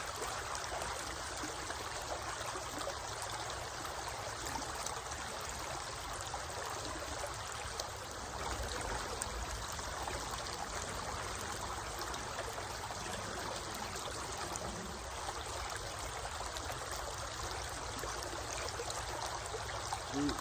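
Steady rushing and trickling of a creek around a gold pan held down in the water while prospecting on an autumn riverbank, a continuous close wash that holds even for the whole stretch with no one talking.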